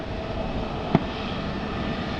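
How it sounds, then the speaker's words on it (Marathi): Etihad cargo airplane moving toward takeoff at Mumbai's Chhatrapati Shivaji Maharaj International Airport, a steady distant engine roar heard from outside, with one brief sharp knock partway through. "त्या पुढचं विमान चाललं आहे बघा उड्डाण करण्यासाठी"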